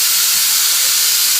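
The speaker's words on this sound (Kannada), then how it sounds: "ಕುಕ್ಕರ್ ಕೂಗ್ತು" A pressure cooker whistles in a home kitchen, a loud, steady hiss of escaping steam filling the whole moment with no voices.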